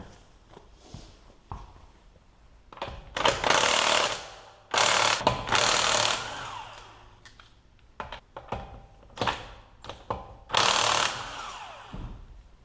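Pneumatic impact wrench zipping lug nuts off a car wheel during a brake flush job, several loud short bursts separated by pauses, with clanks and shuffling between them.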